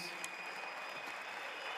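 An audience of leaders at a motivational seminar claps in a steady, soft wash of applause heard from a distance, fairly even throughout.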